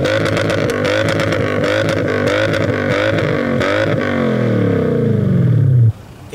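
A modified Japanese VIP-style car with an aftermarket muffler revs hard through its exhaust in repeated rising bursts, then a long climbing roar that cuts off abruptly near the end.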